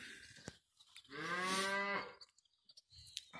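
A cow lets out one loud, close moo lasting nearly a second on a farm where calves are kept, with quiet stretches before and after.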